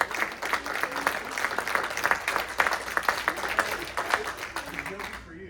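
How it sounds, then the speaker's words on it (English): Crowd applause at a retirement ceremony for a retired Army major, steady dense clapping lasting several seconds with voices mixed in, tapering off at the end. "give me a round of applause for Major Retired Renee the Seamstress"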